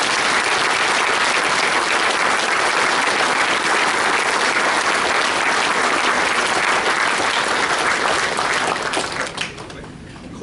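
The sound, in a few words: dinner audience applause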